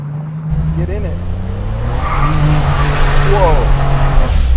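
A Buick Regal Grand National doing a burnout, its engine droning steadily while tires squeal in rising, wavering bursts, loud and close, with someone speaking briefly partway through.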